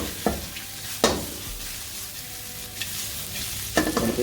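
Hot butter cuttlefish stirred and fried in a pan, with a steady sizzle and several sharp scraping strokes of the spoon against the pan.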